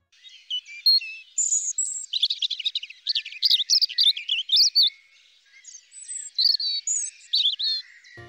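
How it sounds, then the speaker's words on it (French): Bright, fluid birdsong in a garden, a single bird pouring out rapid trills and chirps in quick phrases with short pauses, clear and close with no other sounds. "Le chant est léger, fluide et rappelle un petit cours d'eau cristallin qui coule le long d'une vallée."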